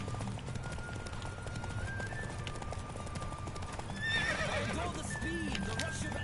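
In The Witcher video game, a horse's hooves clip-clop steadily at a run, then a loud whinnying neigh breaks out near the end.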